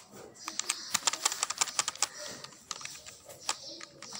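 Fingers tap out a quick, irregular run of keystrokes on a computer keyboard while designing a calculator in VBA, the clicks close and crisp with short pauses between bursts.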